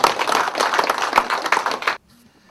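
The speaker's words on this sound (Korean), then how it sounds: "박수 한번 주시죠." A small group claps briskly for about two seconds, the individual claps distinct and close, then it stops abruptly into near silence.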